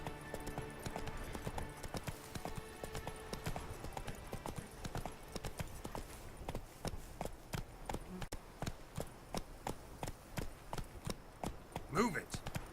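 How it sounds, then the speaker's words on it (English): Horse hooves clip-clop at a steady trot in The Witcher 3: Blood and Wine, a quiet, even rhythm of hoofbeats continuing throughout with a voice occasionally speaking over it. "Yeah, Roach, move it, god damn it"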